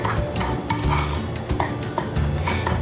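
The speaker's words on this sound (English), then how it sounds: "Mix sugar and cinnamon together." A utensil scrapes and clinks against a bowl in quick repeated strokes as sugar and cinnamon are mixed, close and fairly loud.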